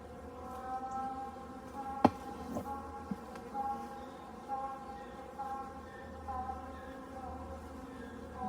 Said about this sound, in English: we've got a bunch of bees down in here